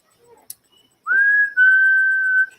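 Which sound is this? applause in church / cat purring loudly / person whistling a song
person whistling a song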